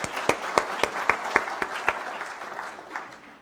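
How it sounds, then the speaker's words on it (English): Audience applause at an anniversary announcement event, a run of distinct claps from a small crowd that thins out and fades after a couple of seconds. "Yeah, it's worth clapping."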